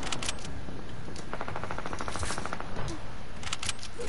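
Rapid automatic turret gunfire in the video game Fortnite, a loud continuous rattling burst that runs the whole time, close and dense, with no talking over it.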